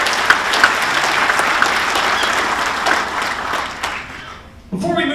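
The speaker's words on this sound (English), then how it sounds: "A big round of applause to the good folks in the athletics department of Missouri Western State University." Audience at a sports hall of fame induction ceremony applauds steadily, dense clapping filling the room for several seconds before fading out, followed by a brief burst of other sound.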